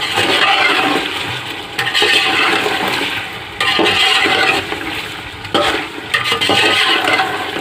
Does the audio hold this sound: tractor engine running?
no